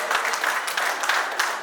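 Applause from an audience at a BNI Elixir business networking event: dense, steady clapping that fills the whole short stretch at an even, moderately loud level, with no talk over it.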